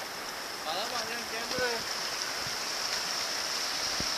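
A river stream flowing steadily alongside a walking trail in a Kyrgyzstan canyon, a constant close rushing wash with some faint tonal sounds over it.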